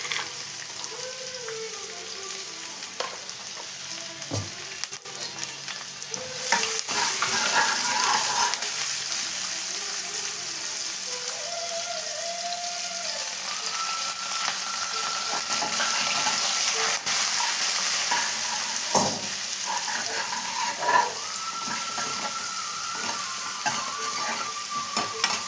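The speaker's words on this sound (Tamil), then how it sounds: "கொஞ்சமாக உப்பு சேர்த்து வதக்கலாம் ஆனியனை" Chopped onion sautés with a little salt in a pan for snake gourd kootu, a steady close sizzle broken by occasional stirring scrapes and knocks, growing louder partway through and continuing without speech.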